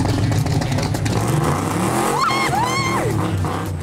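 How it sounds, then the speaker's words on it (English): A customized 800-horsepower Chevrolet Camaro muscle car drives past with a loud, steady engine roar, and a rising and falling squeal of tires cuts in near the end. "This is 800 brake horsepower of iconic muscle car, a Chevrolet Camaro that the boys have customized for their commute to work."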